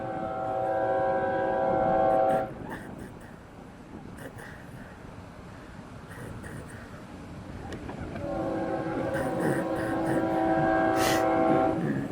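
A Florida East Coast (FEC) freight train passes close by, sounding a loud multi-tone horn at the start and again near the end, with rumbling, clanking wheels rolling steadily between the blasts.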